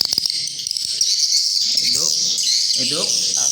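A swiftlet house speaker plays the swiftlet 'void' call indoors as a dense, continuous high chirping drone, with brief clicks and faint sweeping chirps mixed in, loud and close throughout.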